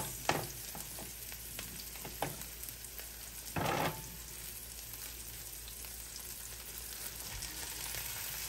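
Minced pork fries in a pan with a constant close sizzle, punctuated by several spatula scrapes and knocks, including one longer scraping burst partway through; no speech.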